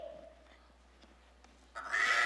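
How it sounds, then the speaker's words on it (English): A sheep bleats during a staged Christmas-season church performance. A thin, wavering bleat sounds early, then a louder, harsher bleat bursts in near the end, with no talking over it. "Listen, that sounds like sheep."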